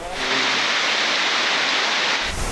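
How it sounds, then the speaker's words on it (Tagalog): Steady rain falls at a creek, heard as a dense, even hiss that is loud and continuous, with no voices. "So ngayon patuloy pa rin yung ulan na nandito sa sapang ito."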